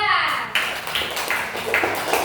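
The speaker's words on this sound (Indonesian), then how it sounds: "silakan tepuk tangan" Bursts of clapping from a group of people at a primary school competition prize announcement, with several louder flurries over a steady patter of hands.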